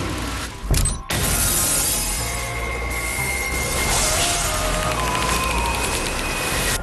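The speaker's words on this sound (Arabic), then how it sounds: "اتكسر، كوبايه في ايدك" A glass cup breaks in one sharp, brief crash near the start, then a dense, busy background continues steadily for several seconds.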